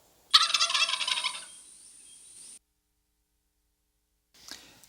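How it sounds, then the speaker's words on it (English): A turkey gobbler lets out one loud, rapid rattling gobble up close. The gobble fades into a thin tail, then silence, and a faint sound follows at the end. "I've got myself a big old gobbler turkey"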